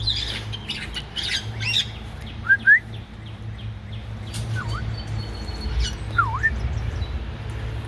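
Birds in an outdoor aviary squawk in short, scattered calls, some high and rising, over a low steady hum, with a couple of louder bursts.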